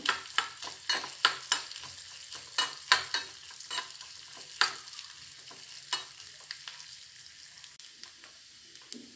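Small chopped cashew pieces fry in oil with a spoon tapping and scraping the pan in quick irregular clicks over a soft steady sizzle, close up with no voices.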